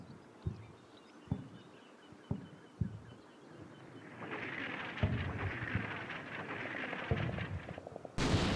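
Sniper shots ring out in a combat video game, several sharp distant cracks at irregular intervals over a low rumbling background that swells into a busier roar toward the end.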